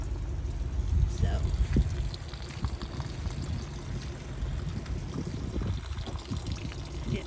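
Water pours and trickles out of an opened line from the fresh-water tank of a 30-foot camper, a continuous rushing flow with faint knocks, heard fairly close for several seconds.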